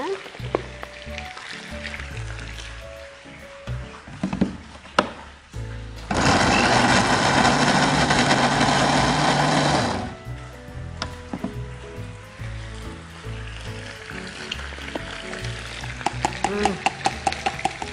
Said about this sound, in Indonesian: Kita blender dulu bumbunya.